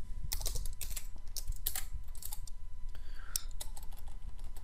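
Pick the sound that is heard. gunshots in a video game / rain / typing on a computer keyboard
typing on a computer keyboard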